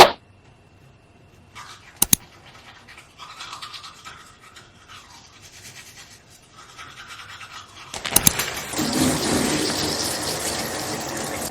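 Shower water starts running near the end, a loud steady spray following quieter bathroom handling noises and a couple of sharp knocks.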